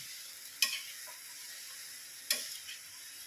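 String beans and shrimp stirred in a frying pan, with two sharp scraping clatters of the utensil against the pan over a low steady sizzle.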